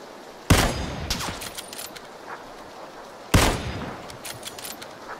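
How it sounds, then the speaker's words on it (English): Two sharp gunshots ring out in a PUBG match, each a loud close crack followed by a short ringing tail, spaced about three seconds apart over a low background. "Somebody else was shooting at me from over there."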